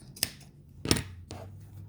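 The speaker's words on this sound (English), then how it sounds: "I'm just gonna cut off the excess." Scissors snipping off excess ribbon on a handmade fabric hair bow, three short crisp cuts spaced across a moment, close and clear with no talk.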